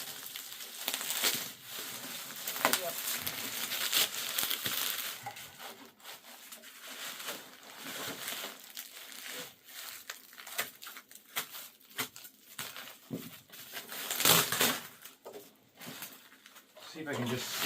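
Tape being cut and packaging pulled off a Kone Innovation elevator car operating panel, with close, intermittent scraping, rubbing and rustling bursts and occasional talking.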